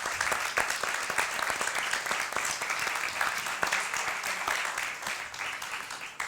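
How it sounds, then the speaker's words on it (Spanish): An audience gives a dense, continuous round of clapping at a colloquium on Italian TV series, steady and fairly loud from start to finish with no voices standing out. "Un fuerte aplauso para ellos, por favor."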